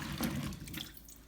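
Water sloshes and trickles in a basin of green bananas, a continuous wet splashing and pouring that stays fairly steady for about a second before thinning out, with no voices.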